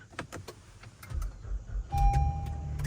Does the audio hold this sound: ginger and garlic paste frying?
no